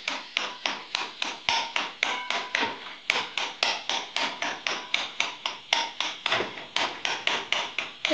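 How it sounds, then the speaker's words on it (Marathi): Spatula scraping and tapping against a pan while breaking up egg bhurji with onion, a steady series of sharp knocks, roughly three per second, close and distinct with no talk. "ते पहा असं बारीक अंडं फोडून घ्यायचं आहे."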